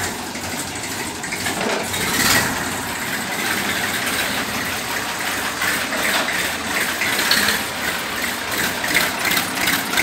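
A 1997 Massey Ferguson tractor in original, clean condition idles close by with a steady low diesel rumble and faint rhythmic pulsing throughout.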